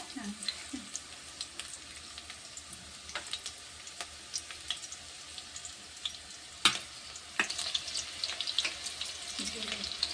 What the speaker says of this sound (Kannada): ಈಗ ಬೆಳ್ಳುಳ್ಳಿ ಹಾಕಿದ ನೋಡ್ರಿ ಎಣ್ಣೆ ಒಳಗೆ